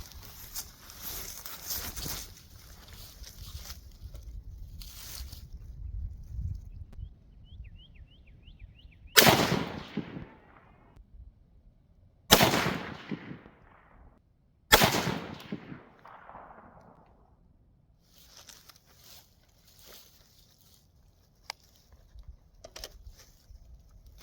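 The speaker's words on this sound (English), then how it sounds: "I'll go ahead and get down in the prone and shoot 3 more rounds" Three sharp, loud rifle shots from a SIG MCX Spear LT fired from the prone position outdoors, spaced a few seconds apart, each with a quick echoing tail over quiet background.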